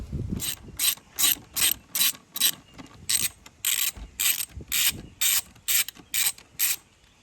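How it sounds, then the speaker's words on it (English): A hand ratchet loosening 7mm screws on the air box of a GMC Terrain, giving about a dozen crisp, evenly spaced bursts of rapid clicking with short pauses between strokes, close and clear. "You need to remove this 4 7mm screws right here."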